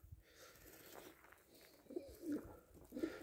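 Cooing of a pigeon or dove, soft low coos surfacing twice near the end over faint background noise, with no talk.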